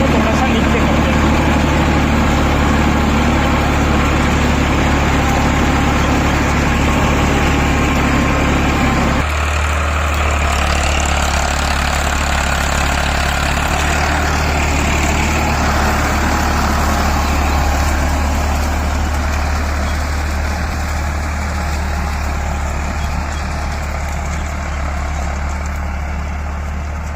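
Tractor engine running steadily while ploughing a field with the hydraulic lift lowered, a loud continuous low diesel drone that holds through the whole stretch with a slight shift in tone partway.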